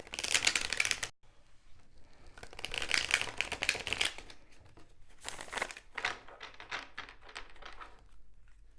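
Tarot cards are shuffled in repeated bursts of crisp riffling and flapping, close and fairly loud, with a brief pause before the shuffling resumes and continues in shorter bursts.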